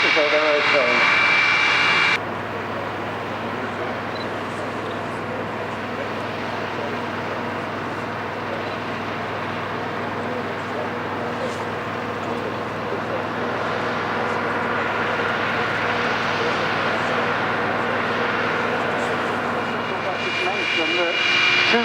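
A steady, loud jet whine from the engines of a de Havilland Comet 4C airliner running at an airshow, holding for about twenty seconds with faint talk underneath.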